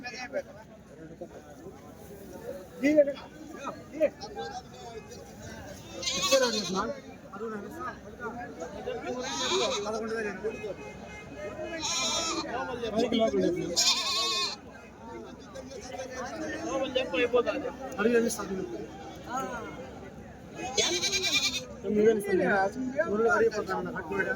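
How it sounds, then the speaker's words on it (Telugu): Goats and billy goats bleat intermittently at a busy weekly livestock market in Kadiri, scattered calls sounding over constant crowd chatter and nearby talking. "మేకలు మేకపోతులు అయితే ఉన్నాయి"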